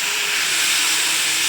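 Water poured into a hot pan of cooked chickpeas raises a loud, continuous steamy hiss that holds evenly throughout, close and alone without talk.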